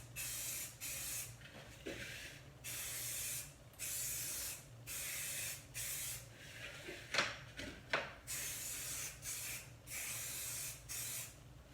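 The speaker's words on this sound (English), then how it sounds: "So you're just going to take your spray bottle" Repeated short hissing spritzes from a spray bottle, steady bursts with brief gaps, over a low constant hum, close by and no talking.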